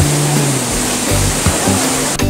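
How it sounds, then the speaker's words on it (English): Min River water rushing down through the Dujiangyan weir and its stone dividers, a loud, steady broadband roar of falling water that runs without a break, with a low hum underneath. "The Min River comes down from the mountain."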